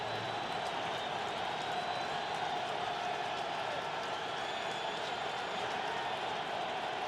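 Dense, constant roar of a stadium crowd at a 2005 NFL game between the Colts and Bengals, a loud wash of cheering and murmur that swells slightly without pause, with faint talk mixed in.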